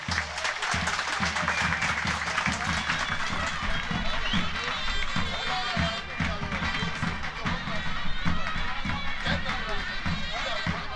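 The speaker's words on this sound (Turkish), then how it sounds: "Akçeveren Er Meydanı'nda güreş tutan koç yiğitlere kocaman alkış lazım" A crowd applauds at an open-air traditional oil wrestling ground in İvrindi, Balıkesir, with continuous dense clapping and crowd noise while an announcer talks over it throughout.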